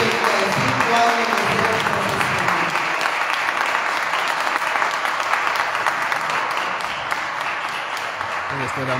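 A large crowd at an outdoor Immaculate Conception religious procession applauds with dense, continuous clapping that holds steady at a moderate level for the whole stretch.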